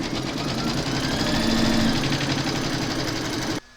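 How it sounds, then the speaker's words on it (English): An embroidery sewing machine stitches the first placement outline on a hooped placemat, a loud, steady rapid mechanical chatter close up that cuts off abruptly at the end. "Pop your hoop into your machine and stitch round number 1"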